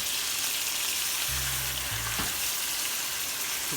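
Ground meat sizzling in a pan for Manwich-style sloppy joes, a steady bright hiss of frying with a brief low hum partway through, no talk.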